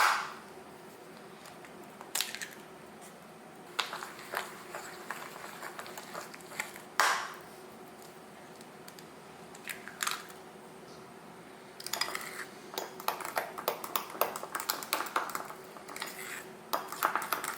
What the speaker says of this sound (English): we're gonna add the eggs to this mixture one at a time and like beat them in between